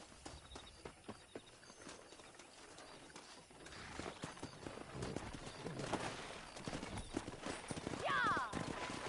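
Horses in the Red Dead Redemption video game clopping along at a rhythmic pace near a ranch, hooves steady and close, with a whinny near the end, while voices talk over the hoofbeats.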